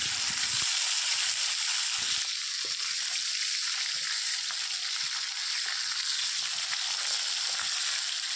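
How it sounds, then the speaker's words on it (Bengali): Fish frying until crispy in a pan for a traditional Bengali lunch, a steady bright sizzle and hiss that runs unbroken throughout with faint scattered crackles and no voices. "মাছগুলো আগে ভেজে দিলাম খড়া খড়া করে"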